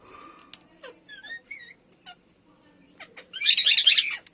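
Indian ringneck parrot chicks being raised for breeding make high squeaky chirps and short rising calls, scattered across the clip, then end in a loud, harsh burst of squawking close by.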